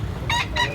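Two quick clucks from a chicken, close and fairly soft, one right after the other.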